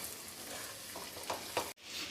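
Capsicum mixture hitting hot oil with cumin in a pan sizzles steadily and softly, with a few stirring scrapes, before a sudden cut.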